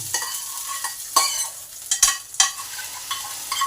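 Hot tempering (tadka) is poured from a pan into roasted-chickpea chutney, giving short bursts of sizzling and crackling with a few metallic scrapes of stirring. The sounds are close, with no talking.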